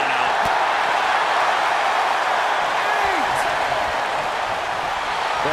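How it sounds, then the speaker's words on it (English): A dense, roaring arena crowd in the wrestling video game WWE 2K22 cheers without a break, loud and steady throughout, with a faint thump partway through. "The sound of this crowd is deafening, and he's asking for more."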